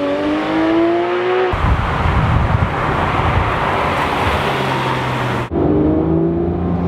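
A Porsche 911 GT3 RS with PDK in Sport mode accelerates hard, its engine note climbing through rising tones, loud and close inside the car with heavy wind noise.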